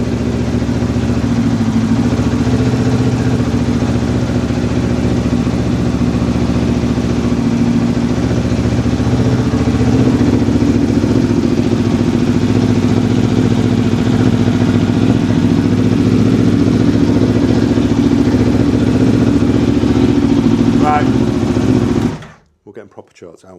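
A custom motorcycle idles in a subscriber's garage with a deep, rumbling, menacing engine note. It runs steadily and loud for over twenty seconds, people talk over it, and then it cuts off abruptly.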